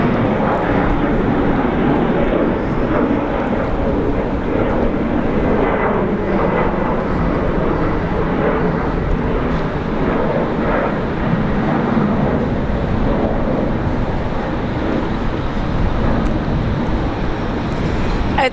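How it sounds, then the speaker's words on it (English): An Embraer E190 jet departs Brisbane Airport, Australia, for Alice Springs, a loud continuous engine roar holding steady throughout with no talk over it. "E190 off to Alice Springs, guys."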